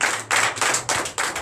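A church congregation in Comè, Benin claps in rhythm, five or six loud, close, evenly spaced bursts of hand clapping at a Sunday worship service.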